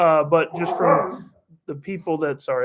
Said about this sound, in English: that's my dog's barking in the background